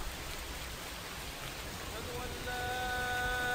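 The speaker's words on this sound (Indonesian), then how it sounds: "Di tengah hujan deras" Heavy rain pours down in a dense, continuous hiss during a motorcycle ride, with a faint tonal whine rising near the end.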